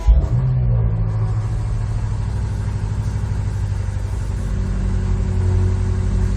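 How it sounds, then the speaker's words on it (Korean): A BMW M8 Gran Coupe LCI starts up, its engine settling into a deep, steady idle rumble with a slight swell near the end, close and loud. "시동을 한번 걸어 보겠습니다"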